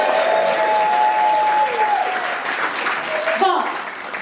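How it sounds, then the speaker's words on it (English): A comedy club audience gives a round of applause during a stand-up set, steady clapping from the crowd throughout with a voice speaking over it and a tonal line sliding across the middle. "so give her a round of applause"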